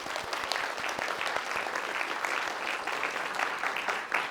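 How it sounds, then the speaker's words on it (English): A lecture-hall audience of students claps on the first day of an algorithms course, a sustained, even roar of many hands with scattered sharper individual claps, and no talking over it. "Can we have a round of applause?"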